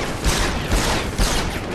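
Pistol gunfire in the video game Deus Ex: Human Revolution, about three sharp, loud shots spaced roughly half a second apart over a steady background.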